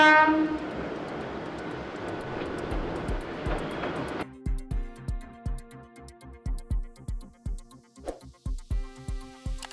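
A train on the Minami-Aso line at the foot of Mount Aso in Kumamoto Prefecture, Japan, sounds long tonal horn blasts before settling into a steady, rhythmic clickety-clack of wheels over rail joints, fairly close and without voices.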